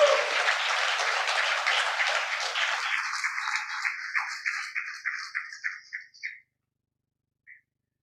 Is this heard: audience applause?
yes